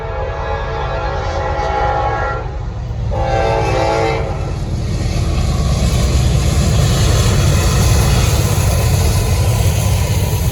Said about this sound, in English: Southbound 241. Just 2 C6Ms, and as you can hear, it's a C6M and a K5 LLA.